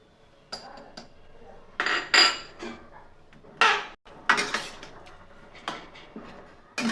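Mango pickle stirred in a pan with a spoon, giving irregular metallic scrapes and clinks in short separate bursts, close and fairly quiet, with no talking.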